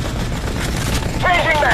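Gunfire in the Modern Combat 3 mobile shooter game, loud and rattling bursts over a dense battle din, with shouted voices heard in the middle of the firing.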